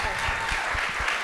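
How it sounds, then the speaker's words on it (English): Audience applause at a panel event on voting rights, a short steady patter of clapping heard without talk. "Another round of applause."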